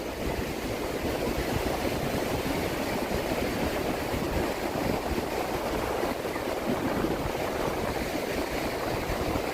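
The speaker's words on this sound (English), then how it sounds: "I'll just let you listen to the waves here for a little bit." Lake Michigan waves at Oak Street Beach in Chicago, a steady broad wash of water and wind rushing continuously up close, with no distinct breaks and no voices.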